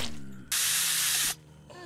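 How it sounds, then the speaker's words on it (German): Spray can in Surv1v3 VR releases one loud, sustained hiss lasting under a second, starting and stopping abruptly against a quiet background. "Boah, ich sprühe mal alle an hier."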